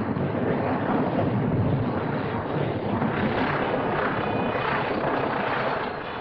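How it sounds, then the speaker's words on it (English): Plane landing on a newly bulldozed wartime airstrip in the Admiralty Islands, a steady loud engine and propeller drone with wind rush that holds for several seconds and eases slightly at the end. "Our first plane lands on the Admiralty's."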